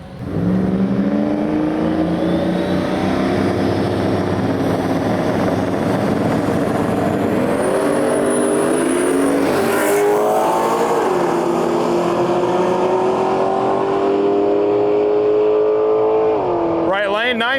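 Drag race pass at Gainesville Raceway between a four-eyed Fox body Mustang and a turbocharged Silverado regular cab pickup: loud sustained engine roar climbing through the gears, turbo whine, a brief shift drop, then rising again, with announcer talk over it.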